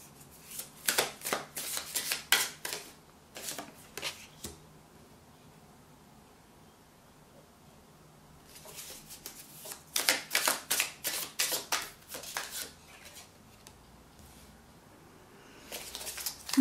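Tarot cards being handled and laid down on a table during a reading, coming in bursts of quick, papery flicks and slaps, with quiet stretches between the bursts.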